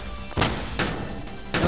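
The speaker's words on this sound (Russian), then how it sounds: "А, теперь меня две пушки стреляют" Two cannons firing in a video game, sharp booming blasts repeating at a steady interval, about four shots in quick succession over a low background.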